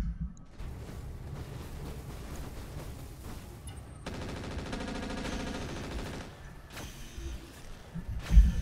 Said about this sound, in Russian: В ближнюю турель стреляю.